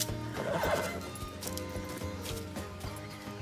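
A horse whinnies over a busy background of hoofbeats and clatter, its neigh fairly clear near the start and followed by ongoing movement sounds.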